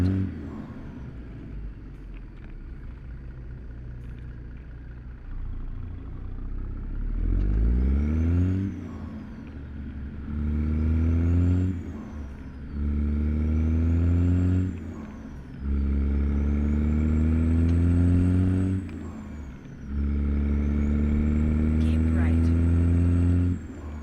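Kenworth W900 truck in American Truck Simulator hauling a chemical tanker, its engine droning loud and close, revving up through repeated gear pulls with rising pitch and brief drops between shifts, with voices talking in the background.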